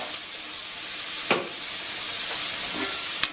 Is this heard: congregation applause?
no